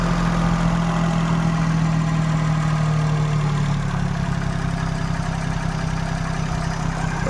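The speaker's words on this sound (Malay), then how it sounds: "Enjin senyap lah. Enjin memang senyap." A car engine idling quietly, a steady low hum with a constant drone and mild vibration throughout, heard up close with no talking.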